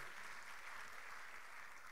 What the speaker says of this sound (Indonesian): Boleh kasih tepuk tangan lagi, saudaraku.